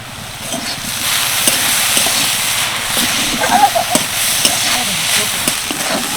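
A tiffin filling stir-fries in a pan with salt, turmeric and a packet of Maggi masala, a close crackling sizzle punctuated by irregular scraping and tapping of a spoon as it is turned.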